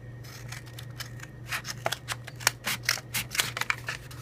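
Scissors snip through craft material for a homemade hanging toy, a quick run of crisp close cuts over a steady low hum, with no voices.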